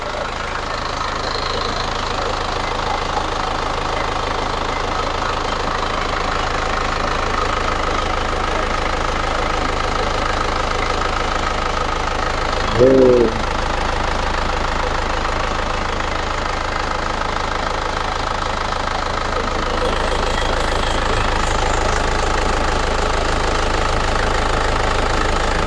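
A 2004 Isuzu Panther Grand Touring engine idles steadily with a constant low rumble and faint knock, heard up close and without a break, with a brief clunk midway and no talking.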